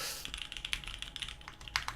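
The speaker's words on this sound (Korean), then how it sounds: "내가 타이핑을 좀 잘 치고 있구나 하고 굉장히 좀 리드미컬한 타이핑이 되는 그런 소리예요" Rapid, rhythmic typing on a custom mechanical big-bezel keyboard, a DGL 4K build, with crisp close-up key clacks and a few sharper accented strokes, heard alone without voices.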